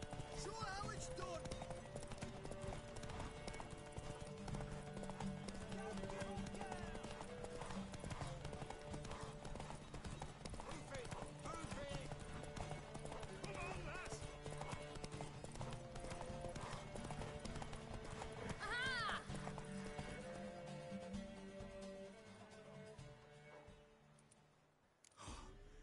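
Rhythmic clip-clop of horse hooves galloping in a horse race in The Witcher 3: Wild Hunt, under a bed of music, with a brief whinny and some voices breaking in near the end.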